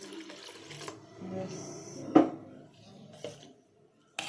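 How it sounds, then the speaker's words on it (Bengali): Water pours into a bowl of batter for gola roti, a light trickling splash in short bursts with a louder splash near the middle, fairly close, with some faint kitchen clatter and no talk. "একটু একটু আর একটু জল দিতে হবে বন্ধুরা"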